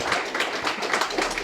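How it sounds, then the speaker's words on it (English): Audience applause at a hip rehab and return-to-sport event, a dense steady patter of clapping filling the whole moment without any voices over it. "a round of applause for her"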